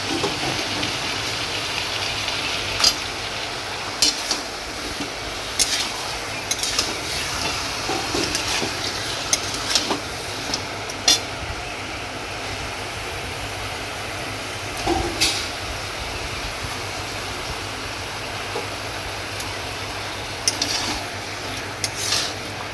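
Spiced meat is stirred and mixed in a pot, giving a steady, soft scraping and rubbing with scattered sharper clicks of the utensil at irregular intervals over low kitchen background noise.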